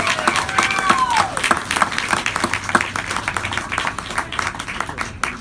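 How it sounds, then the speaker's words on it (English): An audience applauds at a building dedication for a historic Coca-Cola clock, a sustained burst of clapping from a crowd that slowly thins out over several seconds, with faint voices underneath. "Let's all give them a round of applause for their contribution."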